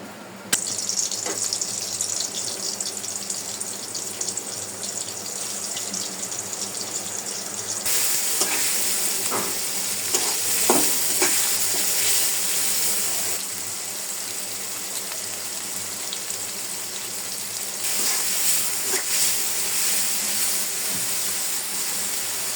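Steady sizzling of ash gourd frying in a pan with ground spice paste, salt and a little water, with occasional scraping and stirring clatter, continuous throughout and fairly close.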